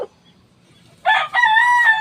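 A rooster crows once, close and loud, in a single drawn-out call that starts about halfway through after near silence.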